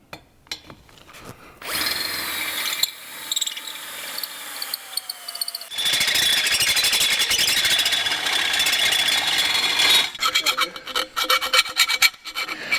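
A step drill bit bores through sheet metal during LS engine swap plumbing work, a loud continuous grinding rasp with bursts of squealing metal that stops and restarts over several passes, close up with no talking.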